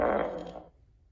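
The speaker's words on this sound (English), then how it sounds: "Do the loudest fart in the world." A loud synthetic fart sound played by an Alexa smart speaker, one deep sustained burst that fades out within about half a second, alone with no talk.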